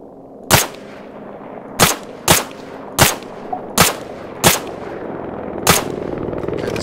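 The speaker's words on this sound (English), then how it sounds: "Shooting." Gunfire in the game ARMA 3: seven sharp, loud single shots spaced irregularly about a second apart over a low ambient background.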